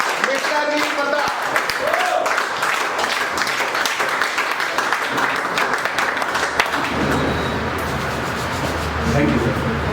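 A crowd at a business leaders' meeting breaks into steady, close applause that carries on for most of the stretch, thinning toward the end as a voice and a low hum take over.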